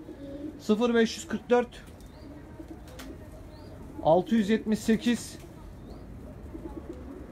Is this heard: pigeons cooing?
yes